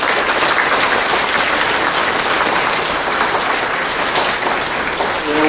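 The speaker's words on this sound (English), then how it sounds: "we got one more round of applause for all the people that put this together" Audience at a school Veterans Day program applauds, a dense, sustained wash of many hands clapping at a steady level for several seconds with no talk over it.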